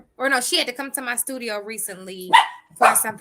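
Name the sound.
dog barking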